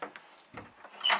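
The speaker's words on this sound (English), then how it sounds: "open the hallway door" A hallway door in a house opens with a soft handle click and a brief wooden knock, followed by a brighter latch or hinge sound near the end, all close and fairly quiet.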